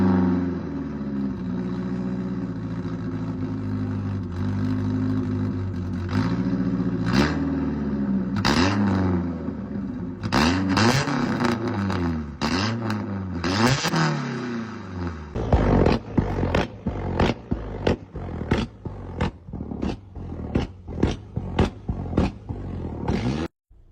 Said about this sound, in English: the exhaust turned out pretty good, shoots pretty good flames